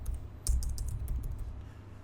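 Quick, uneven clicking of fingers typing on a computer keyboard, close and fairly quiet, with short bursts of keystrokes and tiny pauses between them.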